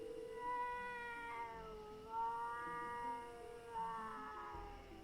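A cat in the video game Jenny LeClue gives several drawn-out meows, clear and close, spaced a second or so apart over a quiet background.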